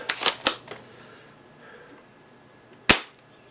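An upgraded UTG Gen5 spring airsoft sniper rifle fires through a chronograph, giving sharp percussive cracks: a cluster of quick clicks near the start, then one loud isolated shot near the end in a quiet room.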